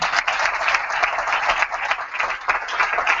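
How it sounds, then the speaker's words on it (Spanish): A TV studio audience claps loudly to welcome a magician onto a magic show, dense continuous applause close and full for the whole stretch, no voices over it. "quiero que recibáis con un fuertísimo aplauso desde Valladolid a Jesús Duque"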